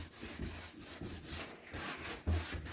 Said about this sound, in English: you're just going to scrub with your scrub pad